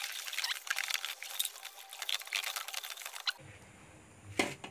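Liquid organic fertilizer being stirred in a container, giving a close, continuous wet sloshing and swishing for about three seconds before it stops, followed by a quieter stretch with a brief clatter near the end.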